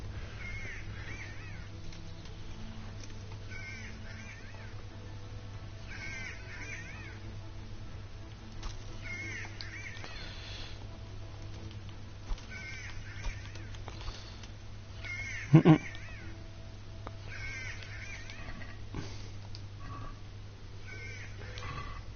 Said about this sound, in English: That bird fucking annoying.